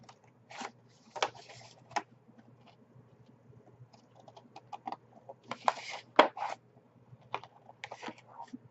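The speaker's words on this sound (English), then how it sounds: "So we'll just cut right on the seam line." Scissors cutting fabric nearby, a series of soft irregular snips and rustles in a quiet room.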